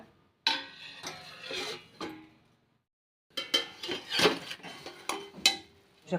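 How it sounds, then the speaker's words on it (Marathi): A lid set onto a cooking pot of green, spicy curry, several metallic clinks and clatters of the lid against the pot rim, close and fairly loud, separated by a brief silent gap. "आता आपण झाकण ठेवूया"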